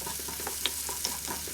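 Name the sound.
onions sautéing in a frying pan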